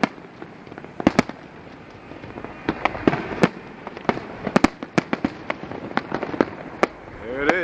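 A large fireworks display at the Borgata on the East Coast, sharp booms and crackling bursts going off irregularly, loud and echoing off nearby buildings, with heavy clustering around the middle and a crackle near the end.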